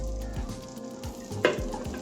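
Steady sizzling of mutton shami kebabs frying in 2 to 3 teaspoons of oil, with a few soft scraping stirs, close and moderately loud.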